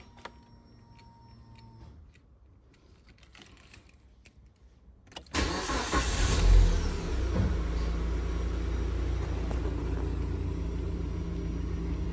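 Keys jangle quietly in the ignition before a Proton Saga FLX engine cranks and starts after a fuel filter change, then settles into a steady, close idle rumble that runs to the end.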